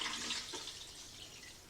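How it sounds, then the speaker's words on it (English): Liquid film developer pours down a drain through a funnel, a steady close splashing gurgle with no voices. "I pour it straight into the drain for the developer"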